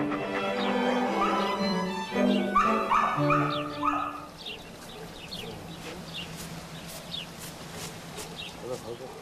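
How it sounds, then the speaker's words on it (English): Pedigreed dogs in immaculately clean kennels bark, yip and whine in a cluster of overlapping calls, then fall quieter while faint chirps continue in the background. "a collection of pedigreed dogs, housed in kennels kept immaculately clean"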